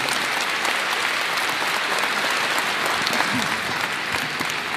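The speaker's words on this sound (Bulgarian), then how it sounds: "Аплодисменти за спортния клуб Патриот." Steady, dense applause from an audience at a sports club awards ceremony, loud and continuous throughout with no break, a faint murmur of voices mixed beneath the clapping.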